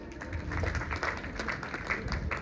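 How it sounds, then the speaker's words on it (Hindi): A crowd claps at the Bishnoi women's business summit in Jodhpur, a fairly soft but continuous rattle of many hands heard from some distance in the hall. "एक बार जोरदार तालियां।"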